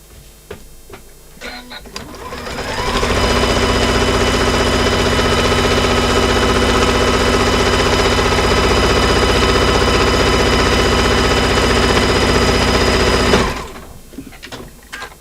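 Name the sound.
sewing machine stitching along the presser foot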